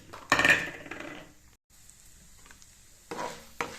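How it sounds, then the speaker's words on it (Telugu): Urad dal, chana dal and mustard seeds fry in peanut oil for a mango pickle tempering, giving crackling sizzles and spattering pops in a pan, with a loud burst at the start and more toward the end. "ఈ మినప్పప్పు, పచ్చెనగపప్పు, ఆవాలు వేగనియాలి కొంచెం."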